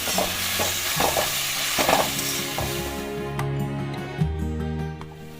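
Chili and turmeric powder stirred into hot oil for olive pickle, a close, continuous scraping stir over soft sizzling, with tonal background music rising in the second half.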